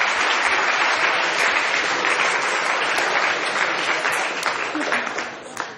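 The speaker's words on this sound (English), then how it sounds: "Give these guys a huge round of applause." A lecture-hall audience at a popular maths lecture breaks into sustained, dense applause, loud and steady throughout before tapering slightly at the end.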